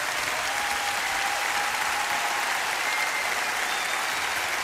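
Large concert crowd of thousands applauding a singer, a dense, steady roar of clapping that stays loud and even throughout with no voices over it.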